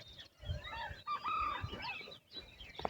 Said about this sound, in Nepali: वन कुखुरा कराइरहेछ वहाँ